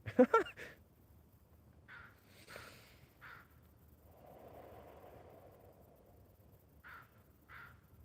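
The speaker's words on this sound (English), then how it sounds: "Wow, the birds." Crows cawing outdoors in a series of separate harsh calls, a loud burst at the start and then spaced single caws at moderate distance, with a low rumble passing in the middle.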